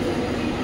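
A crowded evening commuter train in Thane gives a steady, loud, low rumble, continuous and even across the brief moment with no voices over it.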